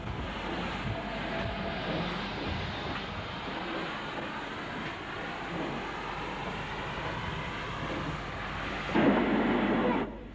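Steam locomotive No. 7020 Gloucester Castle, a former express passenger engine, working a freight train near Birmingham, a steady loud rumble and rolling clatter throughout with a brief louder surge near the end.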